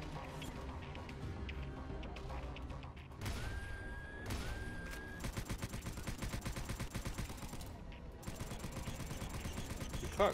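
Rapid gunfire in the video game Subterrain hits a wall, dense rhythmic shots over a busy game soundscape with music and mechanical noise, growing steadier and more repetitive toward the end.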